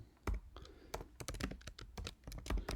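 Quick keystrokes on a computer keyboard while a shipping order is filled in, a close, steady run of clicks and thunks with a faint voice underneath.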